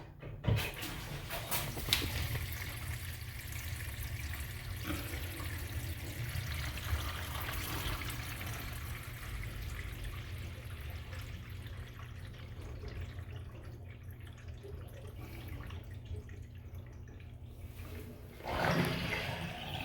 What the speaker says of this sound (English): So I'm going to pump the drain, and then I'm going to check for any leaks.